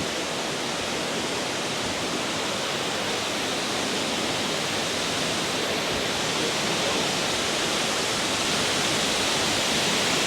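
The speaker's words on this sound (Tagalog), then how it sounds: "So, ito yung pinakasikip na waterfall here in Real, Balabag Waterfall" Balabag Waterfall, a 70-meter falls in Real, Quezon, roars as a dense, unbroken wash of falling water, loud and steady throughout, with no voices over it.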